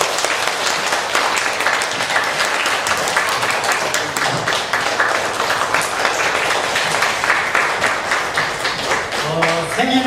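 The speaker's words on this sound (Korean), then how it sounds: "우리 다 축하의 박수 드립니다" A church congregation gives a loud, sustained round of congratulatory applause, dense fast clapping that fills the room evenly for the full length, with faint voices beneath it near the end.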